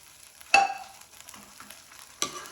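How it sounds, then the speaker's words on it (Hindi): A spoon stirs chickpeas frying in a pan over raised heat, a steady low sizzle broken by two sharp scraping clinks, one early and one near the end. "अब इसको मैं ऐसे बीच में चम्मच चलाती रहूंगी कि इसको हमने खुश्क करना है"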